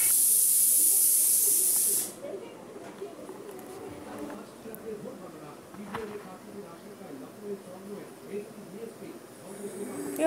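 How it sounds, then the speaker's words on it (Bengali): A home pressure cooker whistle releases a loud, steady rush of hissing steam for about two seconds and then cuts off, leaving quieter room noise with voices in the background. "কুকারে সিটি বাজছে"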